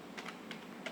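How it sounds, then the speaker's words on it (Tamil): Laptop keys are typed in a few quick, light bursts of clicking, close and fairly quiet over a steady background hiss, with no one speaking. "டைப் பண்ணிடலாம்."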